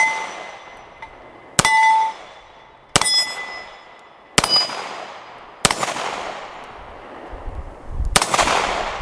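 A Taurus TH10 10mm pistol fires six sharp, loud shots at spaced intervals, each followed by a ringing metallic clang from steel targets that decays slowly.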